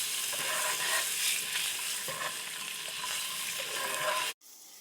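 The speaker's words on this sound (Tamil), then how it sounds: "இப்போ அவிச்சு கீறி வச்ச முட்டையை இதோட சேர்த்து நல்லா பிரட்டி எடுத்துக்கறலாம்." Halved boiled eggs sizzling and being stirred in a pan of masala gravy, a steady loud frying hiss with soft scraping stirs, then cutting out abruptly near the end.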